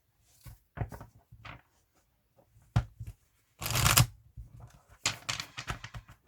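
Oracle cards are shuffled and handled up close, giving bursts of papery riffling and flicking with brief taps and pauses between them, loudest in one dense shuffle midway.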